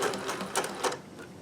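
Sewing machine running a short reverse stitch on a handmade gift, a quick burst of rapid mechanical whirring and clatter lasting about a second, close and alone.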